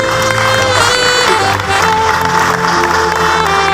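A congregation applauds at a Papuan church service, a dense, loud wash of clapping mixed with crowd noise and tonal sounds throughout.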